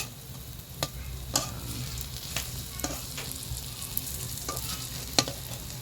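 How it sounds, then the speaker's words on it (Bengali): Masoor dal fritters fry slowly in oil with a soft, continuous sizzle, while scattered sharp clicks of a utensil tapping the pan sound at irregular intervals, fairly quiet and close. "সুন্দর করে আস্তে আস্তে ভেজে নেবেন"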